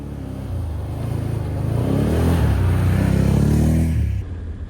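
A Can-Am Outlander Max Limited 1000 automatic ATV accelerates hard with the throttle pinned, its engine droning loud and close in a steady, rising pull that holds for several seconds before cutting off abruptly.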